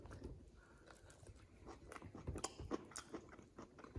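Someone bites into and chews the skin of a lemon zest mango, soft close crunching and wet chewing repeated over several seconds, quiet and without talk.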